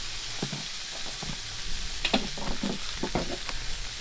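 Food sizzling and frying in a pan at a campsite, a constant bright hiss with occasional stirring scrapes and pops, close and loud with no talk.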